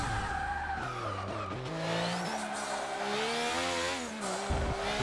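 A twin-turbo Formula 1 race car in the racing game Forza 6 screams through rising and falling engine revs with tire squeal, loud and close, without any talking.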